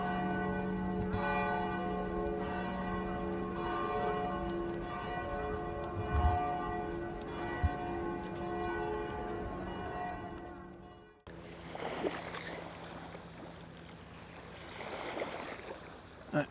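Church bells ring in a tower in Rimini, Italy, near the Adriatic coast, a steady sustained peal for about eleven seconds before giving way to open outdoor wind and sea noise.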